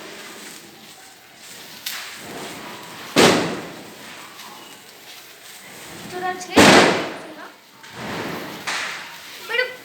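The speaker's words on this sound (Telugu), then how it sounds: "మీరు క్రాకర్స్ కాల్చేటప్పుడు జాగ్రత్తగా కాల్చండి." Firecrackers burst in a few sharp, loud bangs spaced seconds apart, each with a crackling tail, while people talk throughout.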